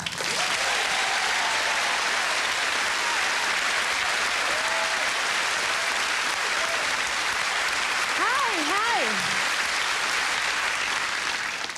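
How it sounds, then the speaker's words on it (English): A studio audience at a 1995 British stand-up comedy show applauds steadily and loudly throughout, with a few whoops and shouts rising over the dense clapping near the end. "Put your hands together, scream applaud"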